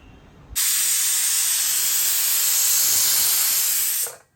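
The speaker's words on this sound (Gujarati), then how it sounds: "આપણી 1 સીટી થઈ ગઈ" A pressure cooker whistle lets out steam in one continuous loud, close hiss that starts abruptly, holds steady for several seconds and cuts off at the end.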